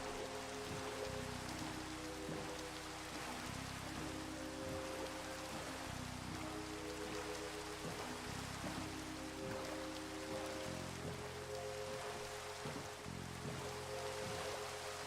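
Steady rainfall in Minecraft, a dense even hiss of drops pattering on surfaces, continuous and fairly loud, with soft game tones underneath and no talking.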